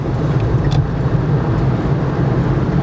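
A Dacia Spring electric car held at full throttle while gaining speed on a downhill stretch, giving a steady, close rumble of road and tire noise with little rise in tone over a few seconds.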